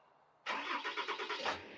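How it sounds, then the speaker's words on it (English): A truck engine cranks and catches, a sudden loud start with a few rhythmic chugging pulses before settling, close by and without speech. "Simply turn the truck on,"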